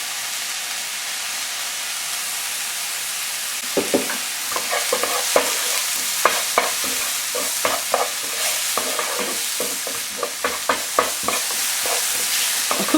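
Garlic and vegetables fry high and fast in a pan for a plant-based breakfast: a loud, continuous sizzle broken by repeated scraping and stirring knocks, with no voices.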